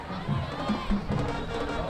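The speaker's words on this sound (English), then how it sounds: "a huge Palmetto Tiger crowd here in the visiting section" Crowd of Palmetto Tigers high school football fans in the visiting section at a night game in Charlotte: a steady, broad roar of many voices with scattered shouts, moderately loud, and a voice talking over it.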